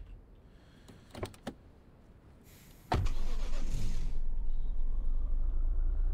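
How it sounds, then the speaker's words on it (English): A car in a video game starts after refueling. A few soft clicks come first, then the engine turns over and settles into a steady, loud idle that runs to the end. "I refueled the car. Now I can finally drive away."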